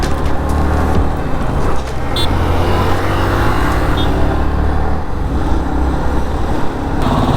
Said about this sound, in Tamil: கரெக்டாக ஸ்கூலோ காலேஜோ விடுற நேரம் செம டிராஃபிக் ஆகிடுச்சு இந்த ஏரியாவில்